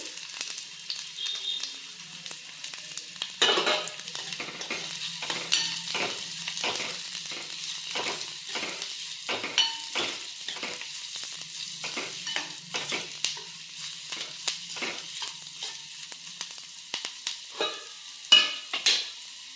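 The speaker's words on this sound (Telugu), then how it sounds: "కొంచెం నూనె వేడెక్కాక ఆనియన్ వేసుకోవాలండి" Onion hits hot oil in a pan for a meal maker egg fry curry, giving a continuous crackling sizzle broken by frequent scraping stir strokes, close and alone without talking.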